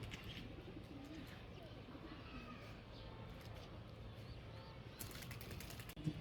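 Pigeons coo softly in low, repeated murmurs at a loft during a bicycle pigeon-flying contest, set against a steady broadband background hiss that lasts throughout.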